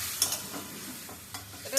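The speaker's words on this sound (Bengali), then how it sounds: "দিয়ে একটু নাড়াচাড়া করবো।" Meat being stirred in a cooking pot with water added: a soft, close hiss of simmering with a few scraping stirs and light knocks of the spoon. No voices.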